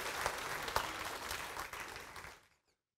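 Congregation applauding in a church service, a brief burst of crowd clapping with a few sharper claps that quickly fades away to silence.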